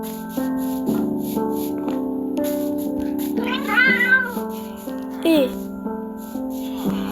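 A Minecraft cat meows twice in short, rising cries over steady tonal game music, both calls standing out clearly in the middle of the clip.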